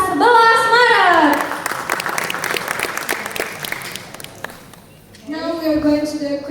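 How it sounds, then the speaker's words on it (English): A room full of people claps steadily for several seconds, with a voice speaking before and after the applause. "Please give applause for Universitas Malang."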